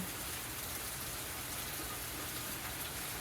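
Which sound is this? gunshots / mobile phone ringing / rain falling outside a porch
rain falling outside a porch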